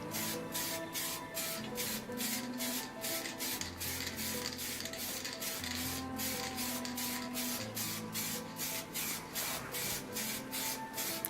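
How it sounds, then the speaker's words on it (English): A spray can lays anthracite paint onto an Alfa Romeo car wheel in freezing cold, hissing in quick, evenly repeated bursts over a faint low hum. "blast that wheel, get that paint on thick as you can"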